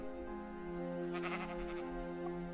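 A Minecraft sheep bleats in the Aether 2 mod, a nearby wavering call that repeats in short pulses over a steady hum.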